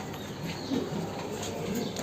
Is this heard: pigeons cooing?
yes